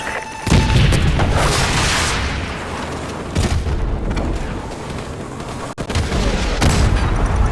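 Repeated heavy booms and blasts as tanks are blown apart in a Call of Duty Modern Warfare Remastered bridge battle, loud and dense with rumbling low end, a sharp cutoff near the middle, then continuing chaos.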